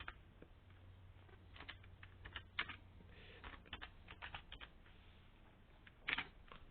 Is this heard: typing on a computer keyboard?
yes